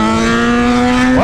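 A Yamaha XJ6 motorcycle engine holds a loud, steady, buzzing pitch up close, then starts to rev upward just before the end.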